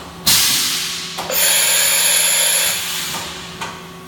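A Viper VMC2100 vertical machining center tapping, giving a steady high hiss with a whining spindle tone that starts abruptly and holds for a couple of seconds before easing off, close and fairly loud, with no talk.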